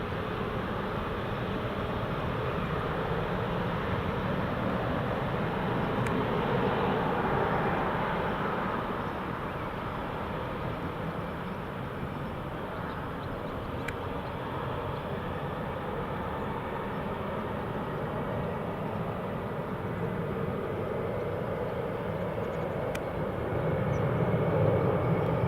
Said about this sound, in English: EasyJet up and away